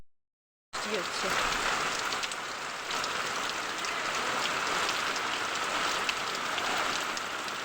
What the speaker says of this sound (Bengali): বৃষ্টি হচ্ছে।